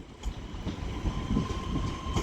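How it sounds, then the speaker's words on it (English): Northern Class 323 electric multiple unit at Manchester Piccadilly station, a steady rolling rumble of wheels on rails with a faint electric whine, moderately close and without voices. "starting here at Manchester Piccadilly with another Northern Class 323"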